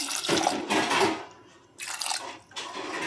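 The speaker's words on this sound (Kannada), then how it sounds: "ಸ್ವಲ್ಪ ನೀರು ಹಾಕಿ" Water splashes into a pressure cooker of lentils in a few short pours, each a brief gush separated by quiet pauses.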